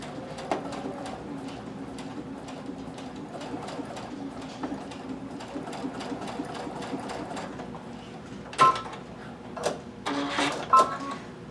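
A sewing machine stitches in twin needle mode, its rapid mechanical whirring running steadily and close, followed near the end by a few sharp clicks and clacks as the needles stop and the fabric is adjusted.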